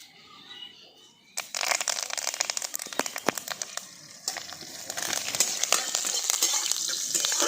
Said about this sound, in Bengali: আমি তেলের মধ্যে দিয়ে দেবো অল্প একটু সর্ষে দুটো কারি পাতা